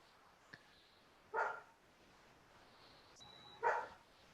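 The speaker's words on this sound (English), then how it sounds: "And you have a dog barking in the background." A dog barks twice in the background, a short burst at about one and a half seconds and another near the end, faint and distant over a quiet room.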